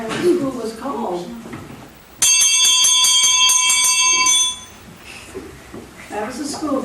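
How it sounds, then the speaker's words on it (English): An old school bell rings with rapid, bright metallic strikes for about two seconds, loud and close, between stretches of people talking before and after. "That was the school bell."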